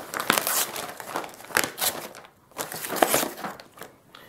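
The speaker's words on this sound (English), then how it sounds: "it's our two Bengals actually playing in the box that this came in" Two Bengal cats playing inside a cardboard box, giving a busy run of crinkling, scratching and thumping cardboard noises in uneven bursts, fairly quiet and close.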